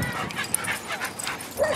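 A dog whimpers and yips in short, high, excited cries while playing with other dogs, close by and continuous over soft background noise.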